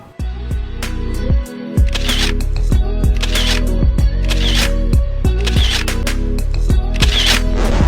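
Rapid bursts of crisp mechanical clicks, like a camera shutter firing in quick sequences, sound loud and close over a steady low background with no voices.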